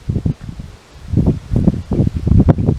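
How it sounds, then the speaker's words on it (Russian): Gusty wind buffeting the microphone in the abandoned village of Yasnэg, Komi Republic, in uneven rumbling bursts, close and fairly loud, with a short lull before the gusts return. "Ветер."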